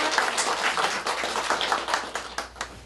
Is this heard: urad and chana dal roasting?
no